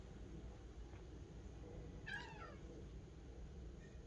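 A cat that had been playing aggressively with a toy lets out one short, sharp meow, faint and a little distant against quiet room noise.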